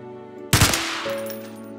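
A single loud gunshot from a gun in Minecraft bursts out after a moment of quiet, then fades into a lingering rumble.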